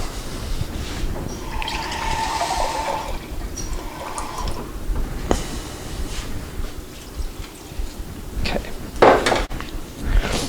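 Liquid concentrate being poured into a pot of pasta soup with beans and kale, a continuous splashing gurgle close by that fades and ends with a few clinks of the container.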